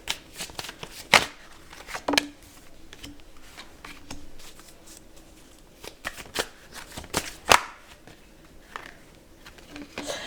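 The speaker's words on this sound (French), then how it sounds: "Ok, on va tirer les autres cartes." Tarot cards are shuffled and drawn close up, with crisp riffling bursts and soft slaps of cards laid down at irregular intervals in a quiet room, with little talk.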